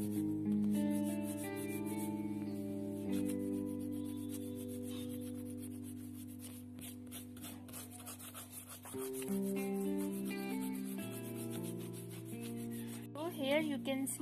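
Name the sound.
eraser rubbing out pencil drawing on paper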